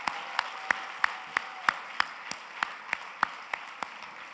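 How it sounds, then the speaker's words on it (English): Applause from the audience at the 19th Miss Malaysia Indian Global 2018 pageant, heard as a slow, even series of single distinct claps standing out over low background murmur. "I would like you all to give her a thunderous applause as an appreciation."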